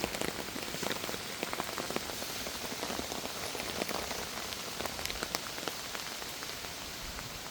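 Steady rain patters on surfaces outdoors, a dense close hiss of drops with scattered sharper taps throughout, no voices.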